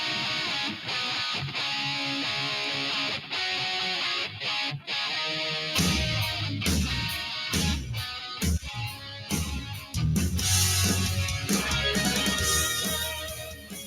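A rock song playing from a recording, a continuous dense band mix that turns heavier and punchier midway, steady and moderately loud with no talk over it.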